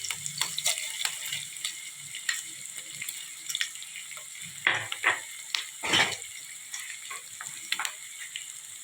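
A spoonful of tempering seeds crackles in oil, with scattered sharp pops and spits over a soft sizzle and occasional louder bursts, close by and without talking.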